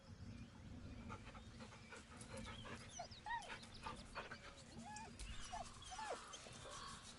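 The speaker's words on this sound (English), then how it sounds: "The dog whimpers nervously," A dog whimpering in Baldur's Gate 3, with several short rising whines and soft panting against a steady low background hum, fairly quiet and close.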